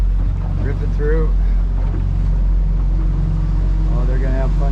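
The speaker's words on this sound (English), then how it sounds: "And here comes another nice boat" A motorboat on open water roars close by, with a steady low engine drone and wind buffeting throughout, while faint voices and birdlike chirps rise briefly over the rumble.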